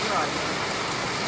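Heavy rain pours down in a dense, steady hiss that fills the short moment, with a voice speaking over it.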